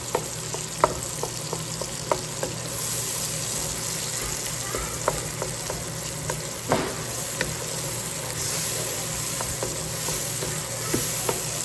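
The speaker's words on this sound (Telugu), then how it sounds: "ఇదైతే మంచిగా దగ్గరగా అయ్యే వరకు వేపుతాము." Mutton curry ingredients with tomato frying in a pan, a steady close sizzle with occasional stirring clicks and scrapes throughout.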